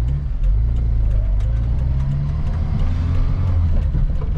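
Engine of a 1986 Peugeot 205 1.3 SR on the road, heard from inside the cabin as a steady, close mid-pitched drone that rises and settles during gear changes.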